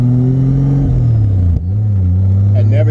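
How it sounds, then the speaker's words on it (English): A Toyota Supra Mk3 with a turbocharged 7M-GTE engine idles and revs close by, a loud droning engine note that dips and swells, with one sharp pop partway through. "Wow, the backfires are serious."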